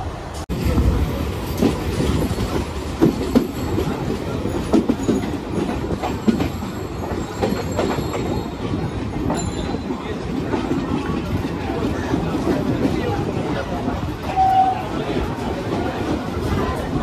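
A train rolls into Duttapukur station in a steady, close rumble of wheels on rails, with faint squeals and clatter throughout and crowd babble in the background.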